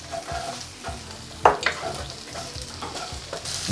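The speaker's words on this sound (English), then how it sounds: "We're going to add our onions and our garlic and our ginger. Okay, so we can start getting them softened up and slightly browned off." Onions, garlic and ginger fry in a pan with steady sizzling, broken by spatula scrapes and stirring clatters, and one louder clink near the middle.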